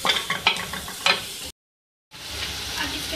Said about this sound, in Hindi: इसके साथ ही मैं इसमें शिमला मिर्च ऐड कर रही हूँ 1 कप। फ्राई करेंगे 1 मिनट।